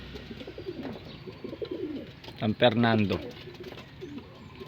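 Racing pigeons coo in a loft in Apalit, Pampanga, soft repeated calls with one louder, fuller coo in the middle, heard close up under a man's speech.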